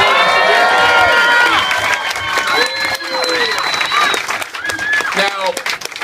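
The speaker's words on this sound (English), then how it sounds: "Can we give him a round of applause?" Crowd at a political event in Leesburg, Virginia, cheering and applauding for Mark Levin, loud and sustained with whoops, shouts and clapping from a dense audience.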